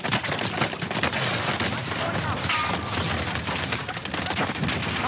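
Rapid automatic gunfire rattles continuously throughout a Call of Duty: Warzone firefight on Caldera, a dense, loud stream of shots.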